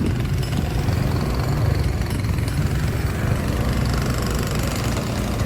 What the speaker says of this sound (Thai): จุดนี้กำลังเจาะพื้นถนนอยู่เนาะเจาะพื้นเส้นทางอยู่